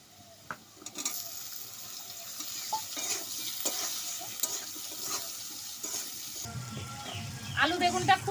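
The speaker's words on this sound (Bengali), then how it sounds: "বেগুনটা দিয়েও লাল লাল করে ভেজে নেবো" Potato and brinjal fry in hot oil in a pan, a soft ongoing sizzle broken by scattered clinks and scrapes of stirring, growing louder and busier toward the end.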